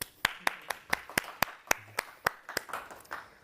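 Scattered clapping from a conference audience after a talk on Ethereum zero-knowledge proving systems, a thin round of individual claps rather than full applause, fairly close and fading out.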